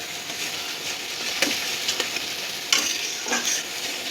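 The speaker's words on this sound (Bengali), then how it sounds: "এই যে এবার এইটাকে আমাকে মশলাটা কষিয়ে নেবো আগে ভালো করে" Spice paste frying in a pan for a kochu shak dish, a steady soft sizzle broken by several sharp spoon scrapes and knocks as it is stirred close up, no talking.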